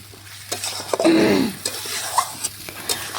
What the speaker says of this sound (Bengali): একদম পেঁপে দিয়ে ডাইরেক্ট দেখুন কষিয়ে বসাচ্ছি